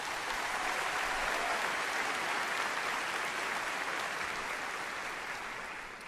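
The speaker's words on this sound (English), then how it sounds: "Let's give them a round of applause" Steady, thick applause from a large graduation audience honoring the school board of trustees, a continuous wash of clapping that fades slightly toward the end.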